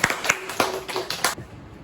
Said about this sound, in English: Give her a final round of applause.